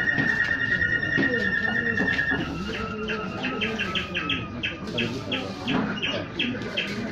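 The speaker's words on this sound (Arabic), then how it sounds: "هاد المقاطع ديال هاد طائر الكرائي المايلو" A recorded songbird sings in a run of repeated chirps and trills, clear and fairly close, over a noisy background with other animal sounds mixed in.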